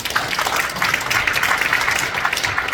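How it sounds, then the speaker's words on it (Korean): Audience applause at a 2022 general assembly of a Korean social safety and prevention association, a dense, steady clatter of many hands clapping at close range that lasts the whole stretch, with no talk over it. "걱정 없어도 박수 한번 쳐주세요."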